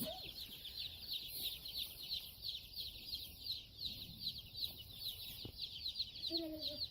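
A brooder holding about a hundred baby chicks in a chicken coop, filling the space with dense, continuous high peeping from many birds at once, close and steady, with a few brief louder calls near the end.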